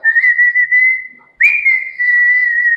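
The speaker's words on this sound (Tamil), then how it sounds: "பேக்ரவுண்ட் மியூசிக் என்னன்னா மிருதங்கமும் விசில் தான்" A bright, sustained whistle tone from the background score for the Tamil film Guru holds one steady pitch, breaks off briefly, then resumes just as loud and clear, with no talk.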